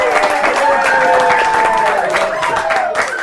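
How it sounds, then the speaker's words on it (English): An audience at a live comedy show breaks into applause that is loud and close, with a voice and cheering mixed into the clapping for about three seconds. "Big round of applause"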